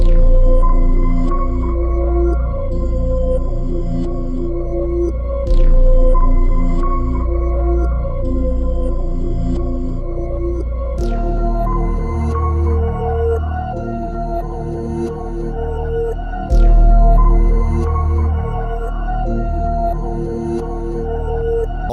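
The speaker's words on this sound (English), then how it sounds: "I use this like unique bass, and it was the shake bass" A deep, buzzy synth bass plays a slow melodic line within a full electronic beat with chords and sharp percussive hits.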